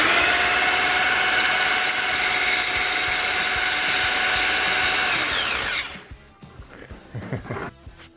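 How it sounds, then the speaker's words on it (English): A loud electric grinder runs steadily with a high whine for about six seconds, then spins down and cuts off, leaving a few quieter clatters and knocks. "Okay, so we've tested this grinder."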